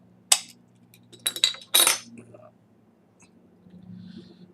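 A 330 ml bottle of traditional 6.4% IPA being cracked open: a few sharp, close clinks and snaps in quick succession over a low steady hum, then a soft faint hiss trailing after.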